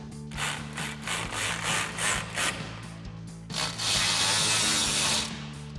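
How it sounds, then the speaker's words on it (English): Ratchet with a 4mm Allen socket tightening bolts on a Spike adjustable bed rack for a Ford F-250, rapid rhythmic clicking strokes, close and steady, followed by a longer continuous rasping ratchet run. "Then we'll tighten these down with our 4mm Allen socket"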